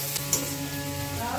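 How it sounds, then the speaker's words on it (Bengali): A little onion drops into hot oil as a tempering, giving an even, steady sizzle with a faint underlying hum across the short moment. "একটু আর অল্প পেঁয়াজ ফোড়ন দিয়ে দিচ্ছি।"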